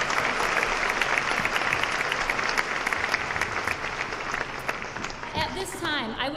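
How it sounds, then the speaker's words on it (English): Applause from the assembled students and audience at a high school senior assembly, a steady sustained clapping filling the room for several seconds before tapering as a voice begins to speak near the end. "Let's give ourselves one more round of applause for surviving Zoom."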